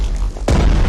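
A single sharp explosion from enemy ships attacking artillery in the World War II strategy game Strategic Mind: The Pacific bursts out suddenly after a low rumble, then leaves a loud, booming tail.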